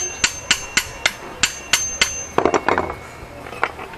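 A rusted seat lock on a Toyota Innova is tapped with a metal tool, about ten sharp, evenly spaced knocks followed by a quicker cluster of rattling taps, close and loud, with a brief spoken word.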